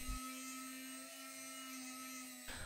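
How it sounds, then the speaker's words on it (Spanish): A small rotary tool with a sanding drum whines at a constant high pitch while sanding rusty pliers, a steady buzzing grind that runs throughout before cutting off near the end. "Para las zonas más pequeñas utilicé la mini herramienta con este cabezal, un cilindro con lija."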